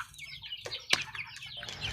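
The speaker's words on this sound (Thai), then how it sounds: "ก็จะมีไก่แจ้ด้วยนะครับ" Bantam chickens on a small farm with quail, clucking in short, close bursts with a sharp peak midway, set against faint background bird sounds and no talk.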